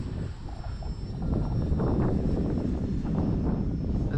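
A Turbo Timber Evolution RC plane is flying, its engine drone steady at first and then swelling louder, with no voices.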